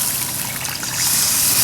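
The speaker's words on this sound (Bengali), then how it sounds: "আমি এখন জল দিয়ে দেব" Water pours into a poppy-seed jackfruit kofta curry gravy in a pan. It makes a steady trickling, splashing wash that swells slightly toward the end, heard up close and alone.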